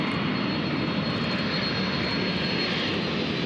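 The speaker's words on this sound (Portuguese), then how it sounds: "Agora eles estão esperando o Boeing 767, que é um dos que maiores operam aqui em Manaus, por volta de 280 passageiros." A Boeing 767 jet airliner arriving at Manaus airport produces a loud, continuous broadband engine roar that stays steady and close throughout, with no talking over it.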